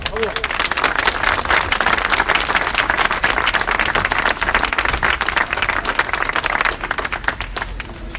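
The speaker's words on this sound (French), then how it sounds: "je crois qu'ils méritent vos applaudissements" Sustained applause from a rally audience honouring volunteers at a French legislative campaign meeting, a dense steady wash of many hands clapping for several seconds before tapering slightly at the end.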